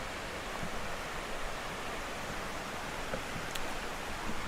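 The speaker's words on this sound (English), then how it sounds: "Here's the creek." A creek at the bottom of a hill flows in a constant broadband rush, steady and fairly close, with no talk over it.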